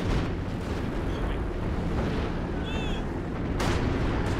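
Air strafing run in a World War II video game battle at Essen Steelworks, a dense continuous rumble of gunfire and blasts with a loud burst near the end, under faint talk.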